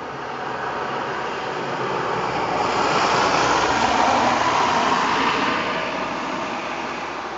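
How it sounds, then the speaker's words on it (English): Steady broadband road traffic noise rushes continuously, swelling slightly in the middle as vehicles pass, heard outdoors on a hillside during a jubilee lantern parade. "If only it wasn't for the traffic noise."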